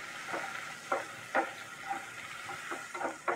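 Onion frying lightly in oil with vegetables for Bengali kumro shaag torkari, a soft steady sizzle broken by repeated scraping stirs of a spatula against the pan at close range.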